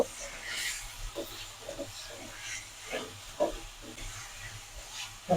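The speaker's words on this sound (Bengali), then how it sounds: "দুই তিন মিনিট আমি এভাবে ভাজবো তারপরে আমি ঝুল দিয়ে দিব" Fried potatoes sizzle in spice paste for a rui fish curry with mustard paste, a soft hiss under intermittent stirring scrapes in the pan, fairly quiet and close.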